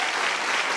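A studio audience on a talk show set breaks into brief, dense applause, an even wash of clapping under a second long.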